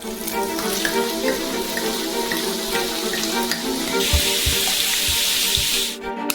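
Champagne is poured into a frying pan of fries, giving a steady, close hiss and sizzle with a bubbling, watery texture that brightens partway through.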